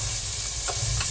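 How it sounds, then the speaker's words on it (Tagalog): Onion, garlic and tomato sizzle in hot oil in a pan, a steady close frying hiss with a couple of soft stirring scrapes on top. "Igisa po natin ang sibuyas, bawang at kamatis."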